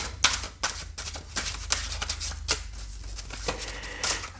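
A deck of tarot cards is shuffled close by, with rapid riffling flutters and soft slaps repeating in quick bursts.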